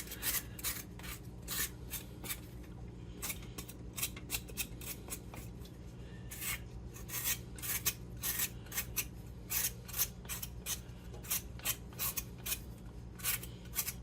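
Potatoes peeled by hand during meal prep for slow-cooked brisket: steady, close, quiet scraping strokes in a rapid irregular rhythm over a low kitchen hum, with no talk.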